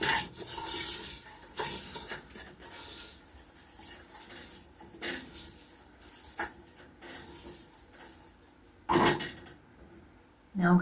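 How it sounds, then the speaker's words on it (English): Rice is stirred through melted butter in a pan on a range cooker, with soft scraping and rubbing strokes, faint sizzling and occasional clinks at an uneven rhythm, heard up close. "Now it's time to add the rice. Just stir that round and coat it in the butter"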